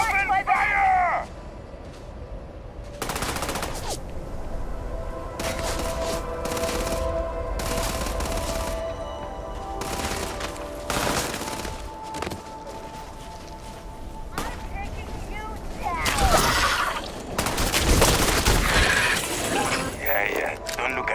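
Gunfire in a space combat video game rattles out in repeated rapid bursts with sharp cracks and shattering impacts, and voices are heard between the volleys.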